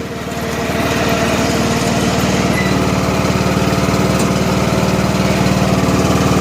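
John Deere riding lawn mower with the blades engaged, its engine droning loud and close at a steady pitch, quickly rising from start and then holding even without a break.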